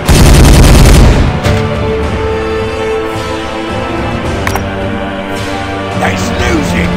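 Space Marines open fire in the Warhammer 40000 Regicide video game: a loud, dense burst of rapid gunfire fills the first second, then gives way to lower battle ambience with a few scattered sharp impacts.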